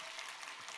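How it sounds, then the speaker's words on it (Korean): Brief burst of dense applause from a congregation at a church baptism and confirmation ceremony, steady clapping throughout with no talking. "박수 한번 해주세요. 박수."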